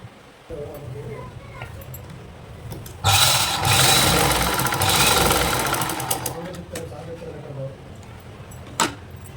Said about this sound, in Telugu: ఇప్పుడు నేను దీన్ని స్టిచ్ చేస్తాను